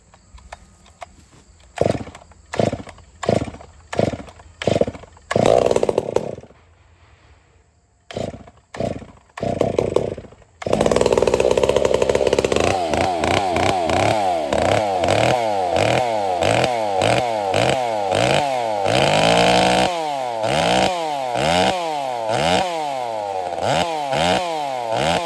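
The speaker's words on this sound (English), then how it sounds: "So, I'm still starting it like a normal saw." Nitromethane-fuelled chainsaw with a working choke, started like a normal saw: a string of sharp recoil pulls and sputters, then it fires and runs loud and close with repeated revving surges.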